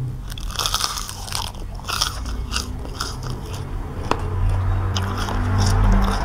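Crunchy bites into deep-fried Thai red sausage, crisp outside and soft inside, give several close, sharp crackles followed by chewing, with no speech.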